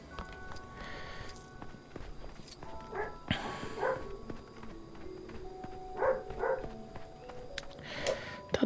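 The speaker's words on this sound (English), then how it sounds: "again, I do apologize for the dogs barking in the background." Dogs bark intermittently in the background, a few faint, distant barks scattered over a quiet backdrop with light shuffling, and no one talks.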